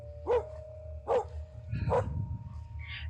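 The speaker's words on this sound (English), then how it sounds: "the dog could be barking at the pizza delivery guy" A dog in a dark, tense setting barks three times in a steady rhythm, each bark sharp and fairly close over a low background rumble.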